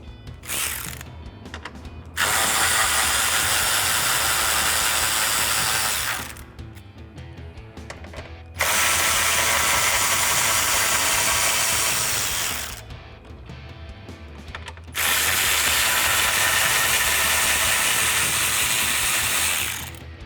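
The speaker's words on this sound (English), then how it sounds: "So I'll use my 10mm socket on a ratchet and pull those out." A ratchet with a 10mm socket clicks rapidly as it backs out grille bolts on a 2009-2018 RAM 1500 pickup, three long bursts of steady ratcheting separated by brief quieter pauses, close and loud with no talk.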